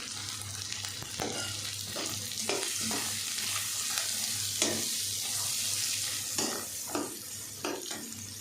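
Carrots and peas for fried rice sizzle steadily in a hot pan, with repeated scraping stirs of a spatula cutting through the continuous frying hiss.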